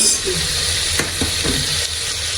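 Steady, loud sizzle of an egg frying in hot oil with bay leaves for a spinach egg biryani, with a few soft stirring scrapes through the constant crackle.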